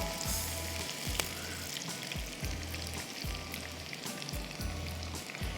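Gujarati curry masala frying on high heat in a pan, a steady dense sizzle running throughout with a low rhythmic pulse of cooking noise underneath.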